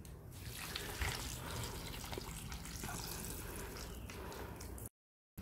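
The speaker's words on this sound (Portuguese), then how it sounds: "agora eu vou ter que fazer o processo de rega de uma forma que molhe todo o torrão" Water pours and trickles onto the soil of a potted avocado plant, a steady faint splashing and gurgling with small drips, quiet and close, ending in a brief silence.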